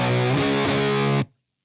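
An electric guitar runs through a Drunk Beaver Bat Cold War RAT-style distortion pedal on its soft MOSFET setting, giving one thick, buzzy chord that sustains loudly for over a second and then cuts off abruptly into silence.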